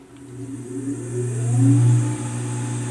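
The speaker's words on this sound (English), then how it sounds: "Let's turn the lathe on." Wood lathe switched on for Beall buffing, motor spinning up into a rising hum that swells to a steady whir within a couple of seconds, close and fairly quiet.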